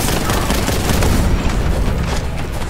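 Rapid bolt gun fire in the Warhammer 40k Boltgun video game, a dense, loud barrage of booming shots running continuously for a few seconds with no quiet gaps.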